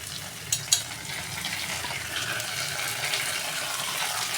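Chopped onion tossed into hot oil over a high flame for veg Manchurian gravy gives a steady, close sizzle, opened by a couple of sharp utensil clinks.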